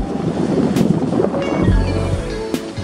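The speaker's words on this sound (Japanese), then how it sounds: "海には今筋のようなうねりがショアブレイクしました" Ocean swell breaks on the shore at a surf point at dawn, a continuous roaring wash of surf mixed with gusting offshore wind buffeting the microphone, with no talking.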